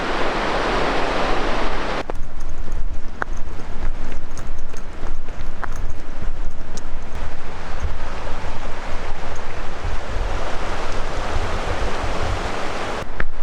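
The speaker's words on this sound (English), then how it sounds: "this is Helmet Creek, flowing out of the mountains away from Helmet Falls" Helmet Creek, a mountain stream flowing down from Helmet Falls, gives a steady, loud broadband rush of water that fills the whole clip without pause.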